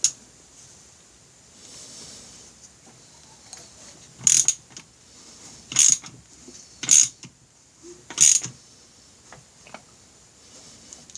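Ratchet turning the engine of a Honda Rebel 250 during a valve adjustment, four short sharp clicking bursts spaced a second or so apart over quiet background, close by.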